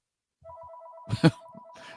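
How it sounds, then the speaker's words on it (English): A telephone rings with a steady electronic warble, interrupted midway by a brief loud clatter of handling noise, then the ringing continues. "Phone is ringing."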